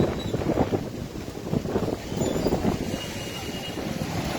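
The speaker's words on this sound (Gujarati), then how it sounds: "જોરદાર પવન ફૂંકાવાનું ચાલુ, ધૂળની ડમરીઓ ચાલુ" Strong wind gusts blowing dust outdoors, a loud buffeting rush that swells and eases in uneven waves, close on the microphone, with no voices.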